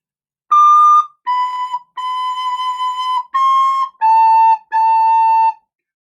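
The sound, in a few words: recorder playing first two measures of Lightly Row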